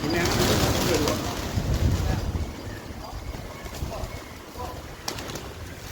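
A large flock of pigeons kept at a home coos and flutters nearby, a dense murmur of soft calls with occasional wingbeats and shuffling, heard under people talking.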